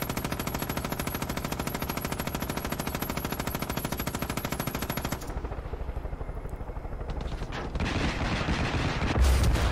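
Far Cry 5 video-game gunfire: a sustained burst of rapid, evenly spaced automatic shots runs for about five seconds, then cuts off, leaving a quieter rumbling background that swells toward the end.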